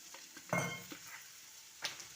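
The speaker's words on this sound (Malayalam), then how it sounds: "നമുക്കൊന്ന് ഇളക്കി കൊടുക്കാം" Chilli powder, turmeric and garam masala stirred into hot oil in a pan for a crab roast, giving a soft sizzle with a few scraping stir strokes, close and fairly quiet.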